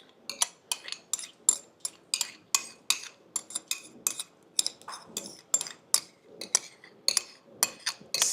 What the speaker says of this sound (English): I love using this spoon to mix my ingredients.